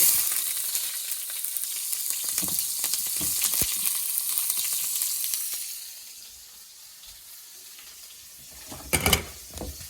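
Chopped onions for gallo pinto sizzle hard in a hot pan, a loud broadband frying hiss that eases to a softer sizzle midway, with a few scrapes and clatters of utensils near the end.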